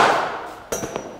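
A cricket bat strikes a ball during a batting coaching session, one sharp crack with a brief ringing tail after a fading rush of ambient noise.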